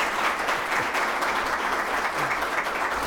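Audience applause at a live talk show taping, a dense steady wash of many hands clapping throughout, fairly loud and without speech.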